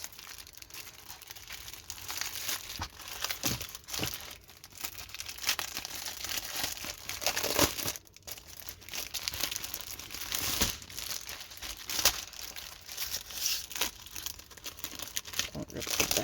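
A plastic shipping bag crinkles and rustles continuously as it is carefully pulled open by hand, with loud bursts of crackling and brief tearing-like scrunches close to the microphone.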